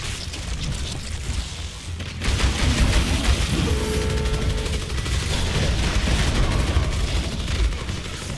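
Gunfire in the video game Evolve, a dense barrage of shots and booms over a continuous loud roar, with a brief whistling tone mid-clip; no speech.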